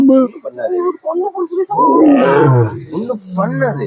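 A lion roars at a Bangkok safari park, a loud rumbling call rising mid-clip and tailing off, heard close under excited chatter from people nearby.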